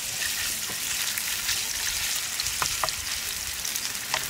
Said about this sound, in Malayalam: നമുക്ക് ഇതിലേക്ക് ചിക്കൻ ആഡ് ചെയ്യാം. ജൂലിയനായിട്ട് അരിഞ്ഞ ചിക്കനാണത്.